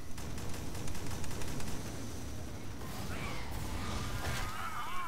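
Gunfire in the Alien Swarm video game, a rapid stream of shots in the first half followed by mechanical clatter and whooshing effects, with faint voices in the background.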